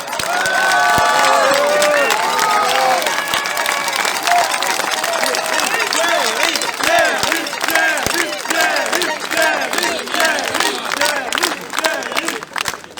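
Crowd at an outdoor patriots' street rally in France applauds and cheers, a loud, lively mix of clapping, shouts and whoops that runs the whole way, with voices calling out among the crowd.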